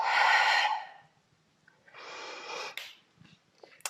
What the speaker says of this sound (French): Respiration avec les côtes.